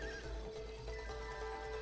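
A horse in a video game whinnies in a short, wavering neigh, faint and somewhat distant over a low steady background.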